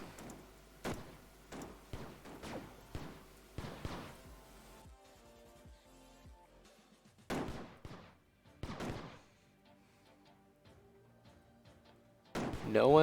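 Enemies in a Ludum Dare 46 game fire at the player in bursts of sharp gunshot-like pops, clustered volleys with pauses between, fairly quiet overall.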